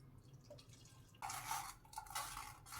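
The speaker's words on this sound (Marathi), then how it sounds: "टोमॅटो पेस्ट आपण गाळून घेऊया" Blended tomato paste strained for hotel-style tomato soup, trickling and dripping against a metal vessel with faint clinks, quiet at first and then a louder steady splashing stream with no voices.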